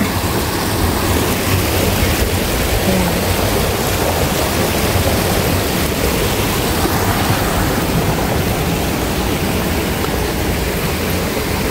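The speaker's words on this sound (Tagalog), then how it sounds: "Ayan ang maagos na tubig sa lawa." Water rushes steadily and loudly, a dense unbroken wash of flowing lake water close by at Zhuzihu, Yangmingshan, Taipei, with one brief spoken word near the start.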